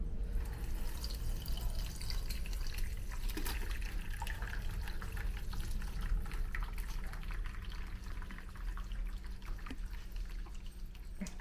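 Cooking juices from a lasagna pan pouring off in a steady liquid trickle with scattered drips, close by and continuous for several seconds.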